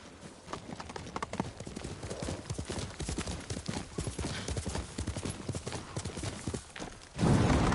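Rapid hoofbeats of a horse in the video game Ghost of Tsushima clatter in a steady galloping rhythm, close and loud, ending in a burst of low rumbling noise.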